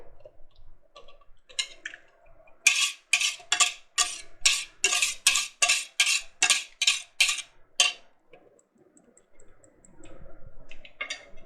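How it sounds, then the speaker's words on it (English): Seasoned eggs with pepper, garlic powder and onion powder scrambled in a pan, a close run of quick scraping and clicking strokes from a utensil, regular and crisp, fading out toward the end. "Now we're going to add our eggs in"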